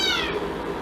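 A cat meows once in a short, close, fairly loud call with a slightly falling pitch, with no one talking over it.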